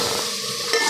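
Whole cumin and coriander seeds roasting in hot oil for a daal chana karela dish give a brief, steady crackling sizzle with no voice.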